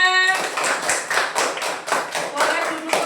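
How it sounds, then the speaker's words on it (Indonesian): A primary-school class claps for a group after its presentation, a series of distinct close hand claps in a loose, uneven rhythm, after a short voice at the start. "Tepuk tangan untuk kelompok 3."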